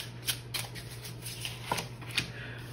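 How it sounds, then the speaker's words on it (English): Tarot cards being shuffled by hand, a soft papery riffle and slide repeating in short bursts, close and fairly quiet against a low steady hum, with no talking. "Let's shuffle this up a little bit."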